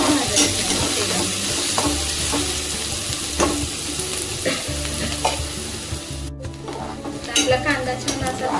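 Onion frying in oil in a pan while being stirred, for an eggplant bharit, with steady sizzling crackle and repeated scraping stir strokes throughout, close and fairly loud, no talk.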